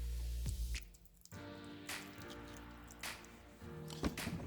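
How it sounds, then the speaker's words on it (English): Water poured onto moss inside a tarantula enclosure, giving close, soft squishy splashes and drips in a few short bursts with quiet gaps between them. "Water for the moss."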